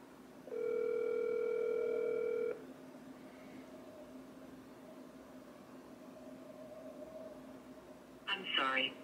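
A phone call's steady ringback tone sounds near and loud, then cuts off into quiet room hiss, with a short burst of voice at the end.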